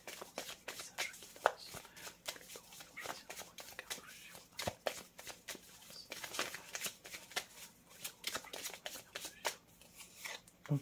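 Tarot cards shuffled close up in quick, irregular papery riffles and slides that continue steadily throughout, with soft background murmur.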